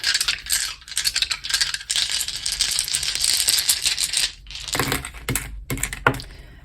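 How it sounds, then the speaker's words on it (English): Seven dice are rolled for a tarot card reading, rattling and clattering in a continuous close flurry of sharp clicks for several seconds, with a brief lull before a few final scattered knocks. "We're rolling 7 dice for you today."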